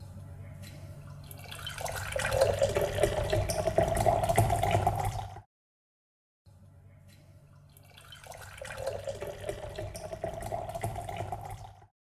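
Ice-cold water poured into an iced coffee glass, a steady liquid fill rising in pitch over a few seconds, then a brief pause and a second similar pour, close and clear with no talk.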